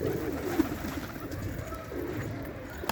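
Pigeons coo softly and steadily near a loft, their low, rolling calls repeating over a constant background hiss.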